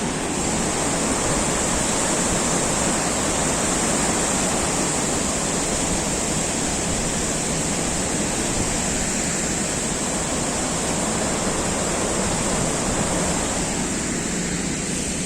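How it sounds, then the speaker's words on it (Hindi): Loud, steady roar of water rushing out of Indrapuri Dam into the Son river in Dehri-on-Sone, Bihar, a dense broadband wash with no let-up, close by and filling the whole stretch. "इस तरीके से पानी डैम से सोन नदी में जाता है। कितना आवाज़ कर रहा है"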